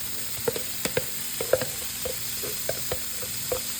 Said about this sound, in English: Okay, so I let my skillet heat up. I'm gonna cook our bacon.